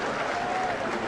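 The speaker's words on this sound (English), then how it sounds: "he receives a huge ovation from this crowd in Toronto" A baseball stadium crowd in Toronto gives a big ovation, a dense, roaring wash of cheering and clapping that stays loud and steady for a brief moment.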